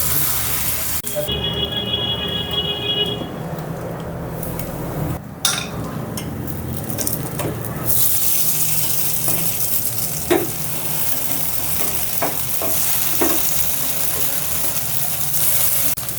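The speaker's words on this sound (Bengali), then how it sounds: "এবার আমি কাটলেটগুলো সামান্য তেলে শ্যালো ফ্রাই করে নেব।" Rajma cutlets shallow frying in a little hot oil in a pan, a loud continuous sizzle with a few brief taps and clinks from handling the cutlets.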